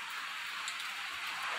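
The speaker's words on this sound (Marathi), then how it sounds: "पहाटे 5 वाजल्यापासून इकडं असा पाऊस चालू आहे" Morning rain falls steadily at home, a dense, even hiss of drops striking surfaces that holds at a moderate level throughout, with no voices.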